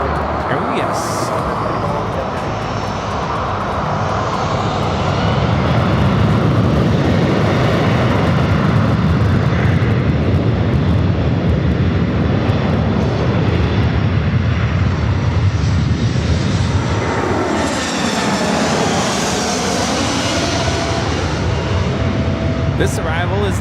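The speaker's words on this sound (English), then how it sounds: "This arrival is Delta Airlines 2975, taking off to Portland on the A319." A Delta Airlines A319 jet at LAX produces a loud, sustained roar of engine noise that swells and holds, with whining tones shifting pitch as it passes near, continuous for the whole stretch.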